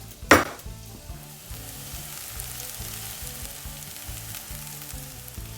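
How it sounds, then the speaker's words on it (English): Onions fry in a little oil in a pan, sizzling steadily and close by after a sharp clatter at the start, with no talking. "It's time to caramelize our onions with a little bit of oil in your pan."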